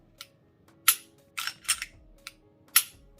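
Trigger of a Glock 43X pistol pulled and reset, a handful of sharp, dry clicks spaced irregularly, close and crisp against near silence.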